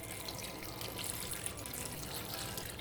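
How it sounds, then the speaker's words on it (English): Faint, continuous splashing of water running into a cooking pot for sambar, a steady watery rush with no voices. "Now I'm going to add some water to it"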